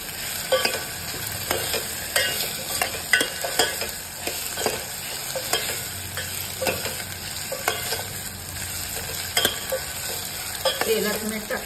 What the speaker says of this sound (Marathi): भाजून घ्यायची तेलात जराशी परतून